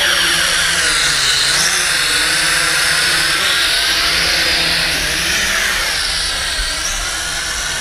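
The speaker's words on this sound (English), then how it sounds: "you can kind of hear those props and that design and those gears is a bit noisy." Propellers and gears of a Hongwang HM7016 detachable drone whine loudly as it takes off, a steady high-pitched buzz with shifting tones close by, with no talking.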